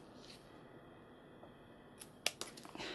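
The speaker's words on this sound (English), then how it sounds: "I think I'm going to cut this as well." Small scissors trimming brown spots off a mini phalaenopsis orchid during repotting, giving a faint, close snip followed by a few light clicks and rustles at the end of an otherwise quiet stretch.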